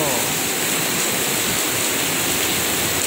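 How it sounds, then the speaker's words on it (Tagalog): A heavy downpour roars steadily and close, a thick wash of falling water with a voice faintly present beneath it. "malakas ng ulan talaga oh"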